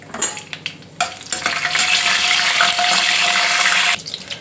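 Cumin seeds, mustard seeds and dried red chillies frying in a couple of tablespoons of oil in a kadai for spinach fry, a loud steady crackling sizzle lasting about three seconds between quieter stirring clatters.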